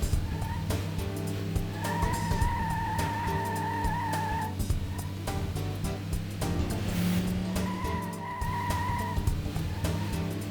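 Racing game audio from Metropolis Street Racer as a Mazda Miata drives with a steady, loud engine drone and brief tire squeals in places, mixed with a continuous music backing.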